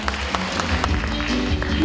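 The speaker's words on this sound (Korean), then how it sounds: "여러분, 임택 청장님을 큰 박수로 환영해 주시기 바랍니다" Audience at a political report meeting claps to welcome the district mayor, a soft, steady patter of applause heard from a distance at low volume.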